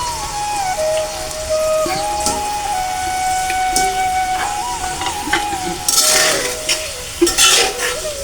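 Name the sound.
hilsa fish being sautéed in spice paste in a pan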